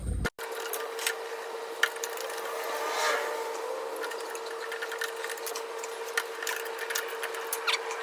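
A ratchet tightens a screw on a Toro carburetor, giving a close run of quick clicking ticks over a steady mechanical hum, with no talk.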